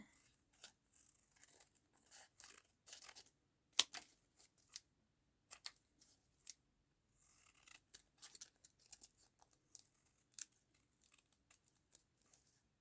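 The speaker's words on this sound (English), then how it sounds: "Let's cut around that a tiny bit." Scissors cut around a paper page tab in a quiet room, making soft, close, scattered snips and short crisp cutting bursts separated by silent pauses.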